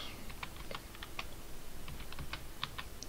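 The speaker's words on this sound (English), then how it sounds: "you type in the word resource" Steady computer keyboard typing, a run of quick key clicks at close range, set against a constant low background hum with no voices.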